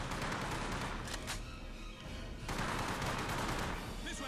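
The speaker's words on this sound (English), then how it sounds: "That was four shots." Gunshots in the World War II shooter game Hour of Victory sound as loud, dense blasts under a continuous wash of game noise, with a short dip partway through.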